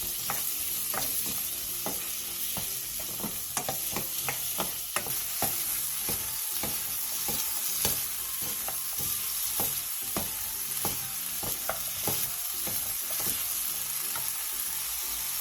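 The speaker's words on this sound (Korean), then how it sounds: "애호박과 새우젓 2분의 1스푼, 다진 마늘 2분의 1스푼을 넣고 중불에서 2분에서 3분 정도 볶아주세요." Zucchini stir-frying with salted shrimp and minced garlic in a pan over medium heat, a continuous sizzle broken by frequent sharp scrapes and clicks of a utensil stirring, close and steady with no talking.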